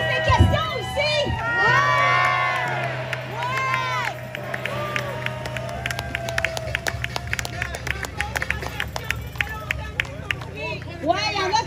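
A protest crowd in a Montreal park shouts and cheers loudly, with whoops and overlapping voices at the start, then scattered claps and shouts over a steady babble.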